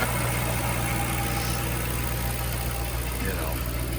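A 2010 Mustang GT V8 idles steadily nearby, a low even rumble with a constant hum.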